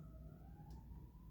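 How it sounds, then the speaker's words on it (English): Emergency vehicle sirens wailing faintly in the background, a steady rising tone under a low room hum with no talking. "And if you can hear in the background, there's sirens."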